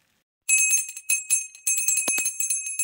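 A small bell rings in a quick series of bright, close metallic dings after a moment of silence, with one duller knock partway through.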